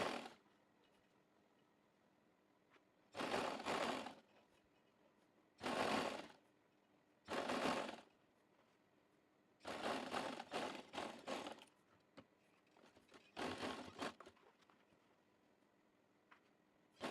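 A sewing machine stitching a lace trouser hem runs in short whirring bursts, five or six separate runs of a second or two each, separated by quiet pauses, close and clear with no speech.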